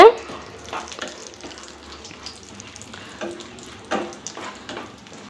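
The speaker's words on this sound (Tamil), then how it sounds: "முந்திரி பருப்பு சேர்த்து இதை நம்ம நல்லா வந்து ஃப்ரை பண்ணிக்க போகிறோம்" Cashews fry in hot ghee with a continuous soft, watery sizzle, broken by a few louder stirring scrapes.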